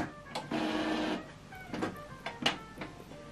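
An Epson Expression Home XP-5100 inkjet printer initializes after ink cartridge loading, giving a close mechanical whir and a sustained carriage run, then several short clicks and motor bursts with no talk.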